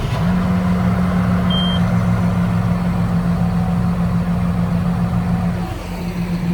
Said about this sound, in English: Let it run, pump that engine all around.